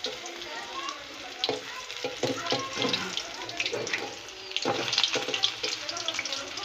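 Chicken koftas frying in a pan, with a crackling sizzle under a run of irregular clicks and taps that sound like turning them with a utensil, some louder bursts near the end.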